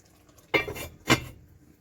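A lid goes onto a cooking pot of tomato chicken, giving two short metallic clanks about half a second apart, close and clear, with a faint kitchen hush between and after.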